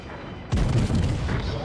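A warship's heavy guns fire in World of Warships, a single booming salvo that breaks in abruptly, rolls and fades.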